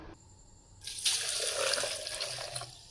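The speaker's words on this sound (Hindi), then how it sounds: "ये पानी चला गया।" Water poured into a jug while making apple juice with sugar, a steady splashing pour that starts abruptly, runs strong for about two seconds and tapers off, with no talking.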